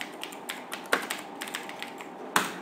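Typing on a computer keyboard: a run of light, uneven key taps with a couple of sharper clacks, close and alone in a quiet room.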